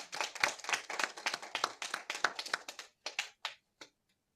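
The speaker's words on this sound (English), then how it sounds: "Let's give ourselves a hand of applause for doing that." Church congregation clapping, a quick patter of hands building briefly and then thinning out into a few last scattered claps before silence.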